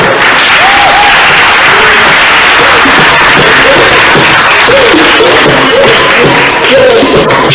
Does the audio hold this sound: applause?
yes